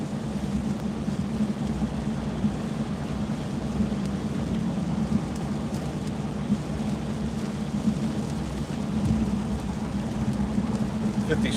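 Rain heard from inside a moving car on a wet Saturday near Pigeon Forge in the Smokies, a steady hiss of rain and tyre spray over a low road rumble, continuous and even throughout.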